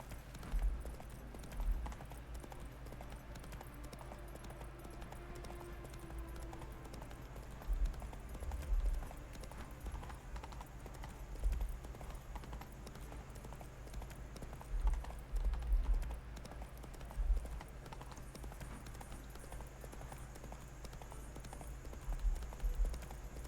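Steady clip-clop of a horse's hooves as a rider travels in The Witcher 3, soft and rhythmic under a low ambient rumble, with occasional louder hoof strikes.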